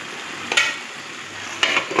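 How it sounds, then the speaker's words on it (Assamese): Mustard greens fry in a pan with potato and chickpeas, a soft steady sizzle broken by two brief louder stirring scrapes, with no voices. "লাই শাক ভাজি আছোঁ"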